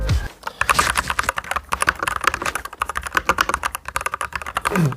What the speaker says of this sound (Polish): zobaczmy jak ta klawiatura brzmi bez tej modyfikacji